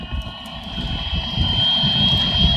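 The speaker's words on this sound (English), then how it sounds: "that's a Kubota tractor with an attachment on it" A Kubota tractor with a front attachment plowing snow from a driveway during a Michigan snowstorm, heard as a steady broadband engine rumble, moderately loud and continuous, with no voices.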